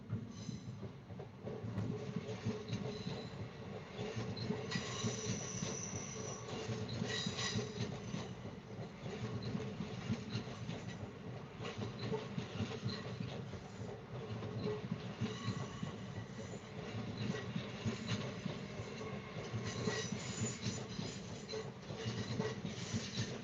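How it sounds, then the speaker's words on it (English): A brand-new Avanti 805 passenger train rumbles past steadily for over twenty seconds, with a continuous rolling drone, faint clickety-clack from the wheels and occasional higher squeals, and no talk over it. "That's one of the brand new Avanti 805s."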